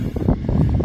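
A short burst of low, buffeting wind rumbling across a microphone in the Australian Outback near Silverton.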